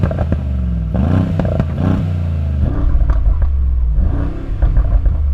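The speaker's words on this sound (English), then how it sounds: "It's the uprated exhaust. Have a listen." A Mercedes G63 tuned to 900 horsepower with an uprated exhaust revs loudly nearby, several deep throttle blips rising and falling with crackles between them.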